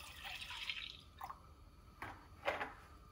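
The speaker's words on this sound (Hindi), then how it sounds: "यहाँ पे मैं 1 लीटर दूध डाल दूंगी इसमें" Milk, about a litre, poured into a pot holding a kilogram of raw chicken: a few short, close liquid splashes and glugs in separate bursts against a quiet background.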